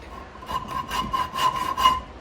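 Hand file rasping along a scrap steel dagger blade, a few quick rhythmic strokes, each a short gritty scrape, close and moderately loud with no speech.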